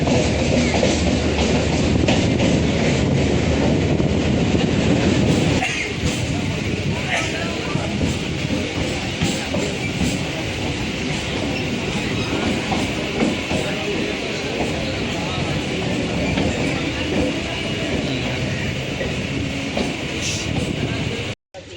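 A train pulling into Kolkata station rumbles and clatters steadily over the rails for about twenty seconds, a loud continuous roll of wheels and carriages close by with faint voices underneath.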